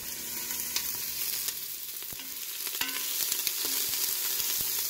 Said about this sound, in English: saute these until they're a nice brownish color